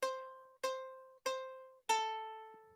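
Four plucked ukulele notes ring out one after another at an even pace, the last an open string that sustains a little longer, clear and solo.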